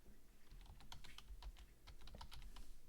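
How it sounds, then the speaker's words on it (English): Fast typing on a computer keyboard while a file is written, a quiet run of irregular clicks and key taps close to the mic, with a faint low hum behind it. "Let's start typing."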